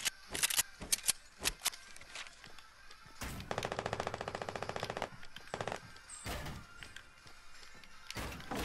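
Fortnite gunfire in a match, a cluster of sharp single shots, then a long rapid automatic burst near the middle and scattered louder cracks afterward, with faint game ambience between.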